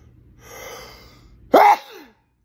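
A person sneezes once, with a soft audible in-breath building up before a sharp, loud burst that cuts off into silence.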